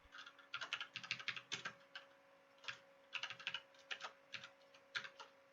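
Someone types Hello World Python code on a computer keyboard, with quiet, close key clicks in quick bursts separated by short pauses and a steady faint hum beneath.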